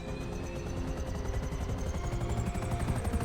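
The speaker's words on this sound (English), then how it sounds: "I get to practice things like flying a helicopter" A helicopter flying in GTA V Online, its engine drone and rapid rotor chop running steadily and fairly loud throughout, with a faint rising whine above.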